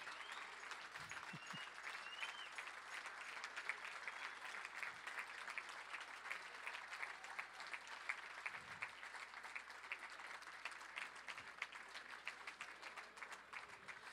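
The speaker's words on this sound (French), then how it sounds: "Ça prend des grands applaudissements pour les faire venir." Continuous, even applause from a dinner audience at a wine event, a dense wash of clapping hands held at a steady level for many seconds.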